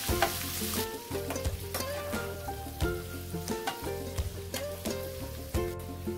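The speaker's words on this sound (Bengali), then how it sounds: "পেঁয়াজটা লাল লাল করে ভেজে নেব।" Chopped onions fry in a pan until reddish, giving a close, steady sizzle with frequent sharp crackles and pops, a few louder bursts as they are stirred, and no talking.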